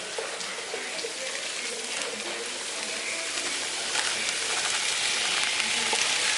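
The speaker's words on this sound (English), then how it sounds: "Right into our cubed meat, and we're going to let this brown up and really start cooking up that delicious flavor." Cubed meat browns in a hot pan with a steady, bright hiss and crackle that holds evenly throughout, close and fairly loud, with faint talk underneath.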